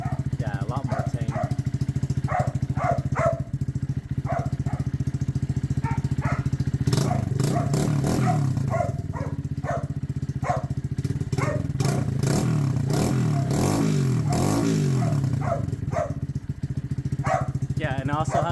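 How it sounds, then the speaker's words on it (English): Close exhaust drone from a KP Mini 150 RS EFI motorcycle fitted with its baffle, a steady low idle with periodic throttle blips rising and falling, while a person talks over it. "I'm gonna put the baffle on, see how it sounds with it."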